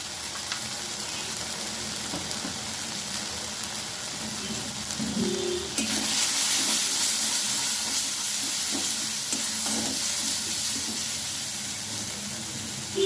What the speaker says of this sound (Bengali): আমি এবার ভালোভাবে মশলাগুলো ভেজে নেব।